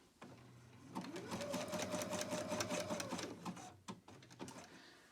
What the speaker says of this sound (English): you're going to zigzag on this side to secure it. Again, back and forth a couple times.